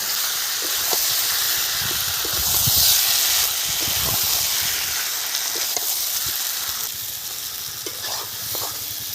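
Masala sizzles steadily in a pan with ginger paste and chopped tomato just added, a continuous close hiss of frying with scattered stirring scrapes throughout.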